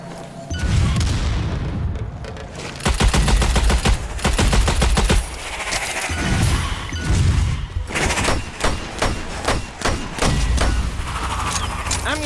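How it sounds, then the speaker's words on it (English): Dense, loud gunfire in the Strange Brigade video game: rapid bursts of automatic shots and heavy booms from a grenade explosion, continuous for about twelve seconds with brief lulls and no clear talk. "Grenade."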